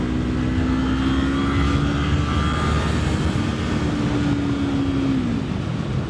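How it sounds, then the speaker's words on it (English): A Kawasaki Ninja 500 motorcycle with an aftermarket exhaust gives a loud, steady engine drone with a low rumbling exhaust note, continuous and close, holding a constant pitch before easing slightly near the end. "I didn't realize how loud this bike is with this exhaust."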